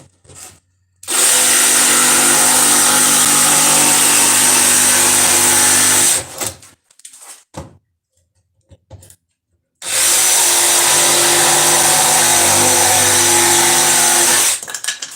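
DeWalt DCS334 cordless jigsaw cutting wood in a workshop, two loud close bursts of buzzing reciprocating cutting, each about five seconds, separated by a pause with light handling noise.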